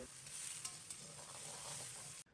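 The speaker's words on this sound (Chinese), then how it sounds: "先放入西红柿，边炒边用勺子按压，把西红柿炒出汤汁" Tomatoes stir-fried in a hot wok with garlic and scallion, giving a steady, loud sizzle with soft scraping of a spoon pressing and turning the food, continuous and close, no voices.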